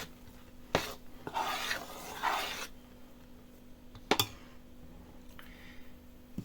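A spoon scrapes and stirs a thick sponge starter for Easter bread in a bowl: two bursts of rough rasping strokes, with sharp clinks against the bowl before and after, close up.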